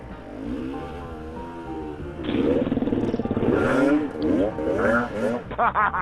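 Enduro motorcycle ridden off-road in Lithuania, its engine droning close by with rising and falling revs and rough bursts of throttle through the whole stretch, a voice also speaking over it.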